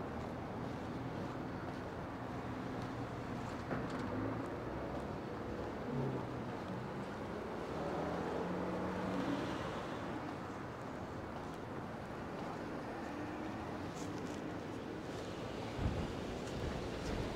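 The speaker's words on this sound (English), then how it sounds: "Ooh, it is pretty windy right now." Strong wind buffets the microphone on a city street in Williamsburg, New York City, as a continuous loud rushing roar with gusty swells and no speech.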